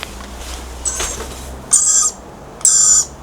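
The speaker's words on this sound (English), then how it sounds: "They're actually quite cute, little lorikeets. But why are you so loud?" Loud lorikeets calling near a garden of plant projects, sharp shrill screeches in short bursts, one fainter then two strong close calls over a quiet background with no talk.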